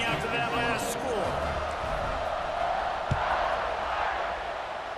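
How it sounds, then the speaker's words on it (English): A buzzing stadium crowd in NCAA Football 26 murmurs and roars steadily at a fourth-quarter kickoff after a tying score, broad and continuous, with a commentator talking over it. "this crowd is buzzing after that last score"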